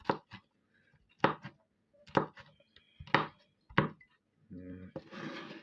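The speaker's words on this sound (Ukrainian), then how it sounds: "і отакими ось произвольними кусочками кришимо" Green asparagus beans chopped into pieces on a board for a salad: five or six sharp knife strikes at a steady uneven rhythm, close and clear, followed by a softer rustle of pieces being gathered.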